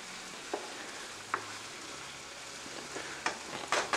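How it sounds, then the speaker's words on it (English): Soft, steady sizzle of sausage frying in a pan as it is stirred into a sautéed base for sausage rotini, with a few sharp clicks and scrapes of the spoon, quiet and close, no talk. "go ahead and mix our sausage up with this delicious base we've got sauteed up"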